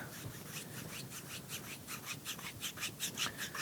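Small paintbrush dabbing sienna watercolor onto paper for a beach-sand area in a seascape, a soft dry rubbing and scratching that repeats in quick, steady strokes up close and fairly quiet, with no talking.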